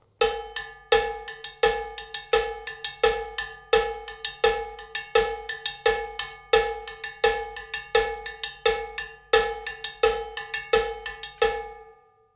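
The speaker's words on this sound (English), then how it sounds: "this is what the bongo bell sounds like on its own" A bongo bell (salsa cowbell) is struck with a stick in a steady, even rhythm, each bright metallic clank ringing briefly before the next, close and alone.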